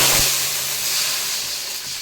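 Water poured into hot ghee with cloves for hotel-style kesari bath sends up a loud, sharp burst of steamy hiss that slowly eases off over a couple of seconds.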